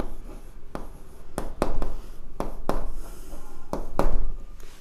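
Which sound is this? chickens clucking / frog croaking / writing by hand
writing by hand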